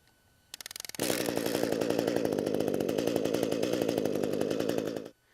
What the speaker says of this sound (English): So I simply have to pull the recoil 1 to 2 times and the unit will fire.